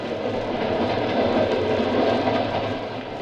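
A steam-era locomotive sound effect from a 1947 radio mystery drama: a train running at speed on open track at night, heard as a steady, loud, continuous rumble and rattle with no voices.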